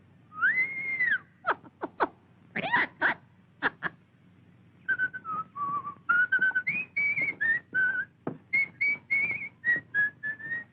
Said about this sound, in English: Thelma, I can't whistle at night because you want to sleep